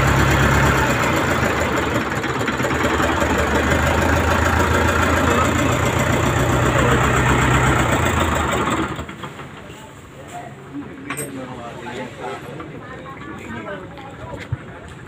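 A loud, steady mechanical engine drone rumbles for about nine seconds, then cuts out abruptly, leaving quieter background noise and faint scattered sounds.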